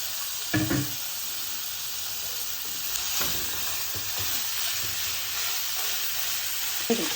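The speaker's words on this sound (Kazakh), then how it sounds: "Енді біз осы сковородкамызға, баклажан қуырған сковородкамызға фаршымызды қуырамыз." Minced meat fries in the same pan used earlier for eggplant, giving a continuous close sizzle and hiss with a few stirring clatters scattered through it and no talking.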